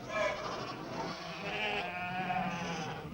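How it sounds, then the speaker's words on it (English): Sheep bleat in a busy marketplace among other livestock, with several overlapping wavering cries close by and a steady crowd murmur underneath; no clear speech. "Look at the sheep"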